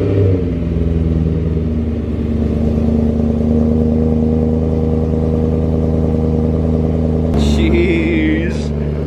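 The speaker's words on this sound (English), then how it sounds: "I'm gonna set you guys back here so you guys can hear the cold start" A BMW E90 M3 V8 with primary and secondary cats and resonators deleted, cold-starting nearby and settling into a loud, steady, deep high idle, then a short blip near the end.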